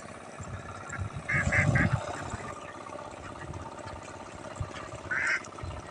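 A large flock of thousands of ducks quacking in short nasal bursts, a cluster early on and another later, over a low engine rumble and outdoor background noise.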